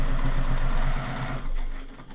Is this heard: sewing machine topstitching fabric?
yes